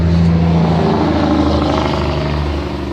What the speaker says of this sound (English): I live right along the road, a major highway.